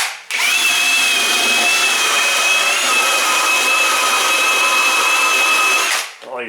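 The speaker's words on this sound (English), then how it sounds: "I have a couple of different wire brushes that go on drills" A power drill fitted with a wire brush grinds rust off Mazda 3 brake parts, running loud and steady for about six seconds with a constant high whine before spinning down.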